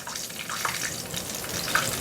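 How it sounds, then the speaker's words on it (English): A pork chop fries in a pan of hot grease, giving a steady, moderately loud spattering hiss with small pops throughout. "fry the last one that I have"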